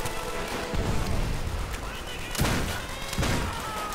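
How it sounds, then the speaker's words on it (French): Grenade blasts in the World War II shooter World at War, with loud booming thuds around 0.8, 2.4 and 3.2 seconds over constant battle noise and gunfire, while a player talks. "Il y a une grenade derrière moi là."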